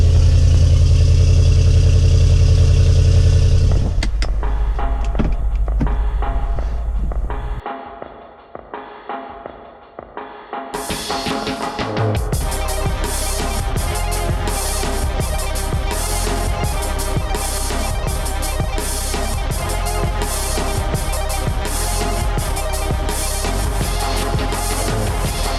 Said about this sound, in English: Get a little bit of that cold start sound.